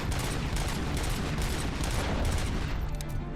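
Rapid automatic gunfire from RoboCop: Rogue City crackles in a loud, continuous burst of closely spaced shots with no talking.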